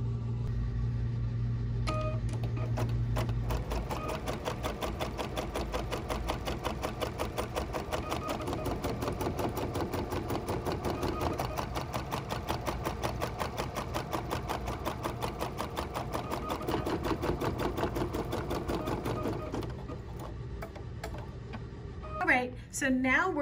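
An embroidery sewing machine runs a basting line on a quilt, its rapid, even stitching rattle continuing for about twenty seconds before stopping, followed by a short electronic beep.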